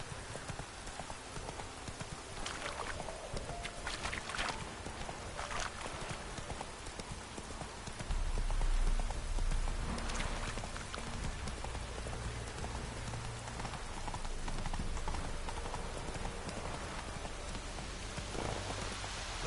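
A horse galloping in The Witcher 3, rapid rhythmic hoofbeats running continuously with rain pattering on surfaces throughout, the gallop swelling louder midway.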